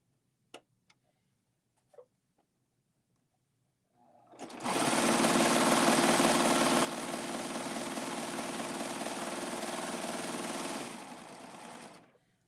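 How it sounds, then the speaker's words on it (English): A serger sewing machine runs steadily for about seven seconds while stitching stretchy fabric, a loud continuous whirring hum that eases slightly partway through. A few faint clicks come before it starts. "So, I don't sew as fast as Sarah does."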